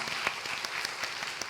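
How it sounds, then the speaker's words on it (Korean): Church congregation at a Sunday morning service applauding, a dense, steady patter of many hands clapping at moderate loudness with no break. "환영의 박수 올려드립니다"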